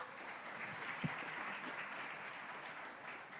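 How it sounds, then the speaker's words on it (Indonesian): Faint applause from an audience at an Indonesian talk on teachers and education, an even wash of clapping heard at a distance, with one sharper knock early on. "Tepuk tangan dong"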